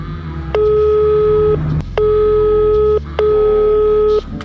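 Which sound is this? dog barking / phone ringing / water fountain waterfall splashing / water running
phone ringing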